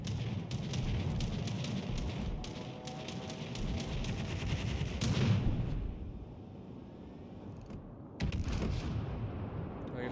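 Rapid bursts of ship gunfire crack and boom through a naval battle in World of Warships Legends, a dense volley of close shots followed by quieter stretches and then another loud salvo.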